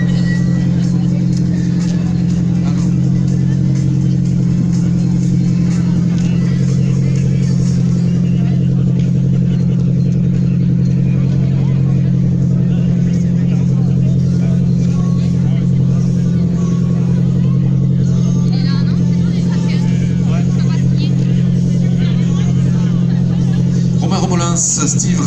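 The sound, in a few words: rally cars driving into the park at the rally finish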